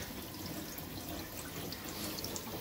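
Cold water runs and drains into a sink in a steady, even rush with light splashing, close and soft, with no voices.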